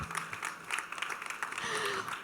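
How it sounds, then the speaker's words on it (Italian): Applause from a live show audience for a participant, dense broadband clapping filling the whole moment at moderate volume. "un applauso a Marco."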